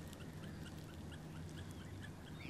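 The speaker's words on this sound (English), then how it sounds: "So we've got some ducks coming over here" Ducks flying overhead outdoors, a series of faint, scattered quacks and calls over a low, steady wind or ambient rumble, fairly distant and brief.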